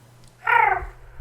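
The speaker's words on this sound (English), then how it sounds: "Cat?" A single short cat meow sounds nearby, brief and clear over a quiet low hum.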